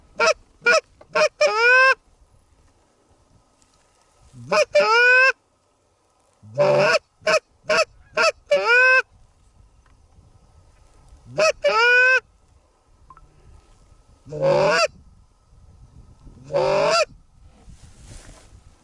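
A flock of geese on an early season hunt in North Dakota, honking in repeated clustered bursts with quiet gaps between, loud and fairly close, some calls overlapping, and hunters talking quietly under the calls.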